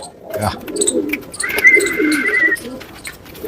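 Pigeons cooing close by, soft throaty calls rising and falling over a couple of seconds, with a few chirps and faint background noise.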